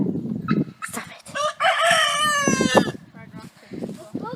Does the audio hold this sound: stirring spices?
no